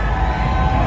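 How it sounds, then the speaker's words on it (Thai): Supporters of Thai boxer Petchthonglor cheering at a Lumpinee Muay Thai fight, a steady dense roar of crowd shouting and whooping that fills the hall without pause. "กองเชียร์ของ เพชรทองหล่อจะคึกคักหน่อยครับ"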